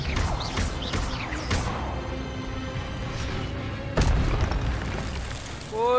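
A spell blast from the video game Hogwarts Legacy bursts out as a booming, whooshing impact, with further loud hits and swishes following close in a busy, sustained stretch of game sound.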